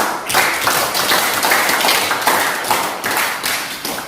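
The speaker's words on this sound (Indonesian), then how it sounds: "bisa kita apresiasikan sekali lagi tepuk tangan" A classroom of students claps loudly and continuously for a group presentation, a dense, close patter of hands with uneven swells throughout.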